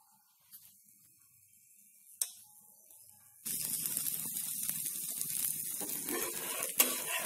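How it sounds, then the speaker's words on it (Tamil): A few quiet clicks give way to a sudden loud, crackling sizzle as ghee hits an onion carrot dosa on a hot pan, the spitting continuing steadily to the end. "இப்போ இதில் நான் கீ விட போகிறேன்."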